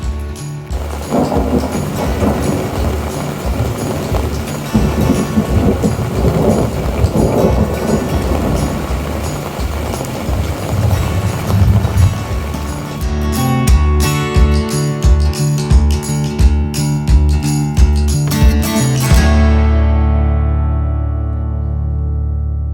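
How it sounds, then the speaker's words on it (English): Rolling thunder rumbles heavily through steady pouring rain, loud and sustained, with the rumble fading out at the end, in Spruce Woods Provincial Park, Manitoba. "And it's lightning and thundering around us."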